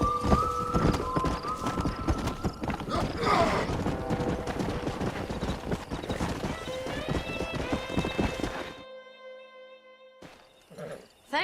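Video game horse hooves clatter rapidly and heavily in a galloping rhythm, with whinnies breaking through before the sound cuts to near silence and a final neigh.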